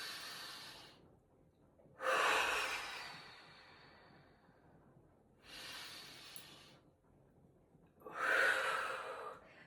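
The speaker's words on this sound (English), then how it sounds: "breathe in, drop your hands, exhale" Slow, deep breaths during a beginner yoga session, four airy inhales and exhales rising and fading with pauses between, close and clear with no talk.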